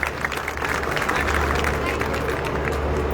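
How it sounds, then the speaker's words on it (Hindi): An audience claps steadily to welcome a guest at a BJP organisation gathering of women in Loni, a dense, continuous patter of hands that runs under a voice speaking over a public address. "तो जोरदार तालियों से उनका स्वागत करें"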